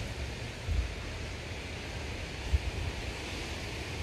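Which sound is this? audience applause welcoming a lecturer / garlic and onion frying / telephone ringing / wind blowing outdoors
wind blowing outdoors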